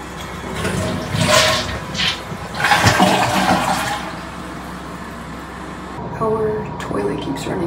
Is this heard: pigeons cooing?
no